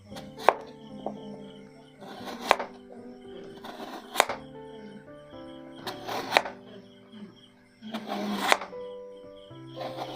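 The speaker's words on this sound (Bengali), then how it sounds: "এবার আলুটা কেটে নেব।" Two peeled potatoes being cut into medium pieces with a knife on a board, five or six distinct sharp chops spaced a couple of seconds apart, close and clear with faint handling noise between.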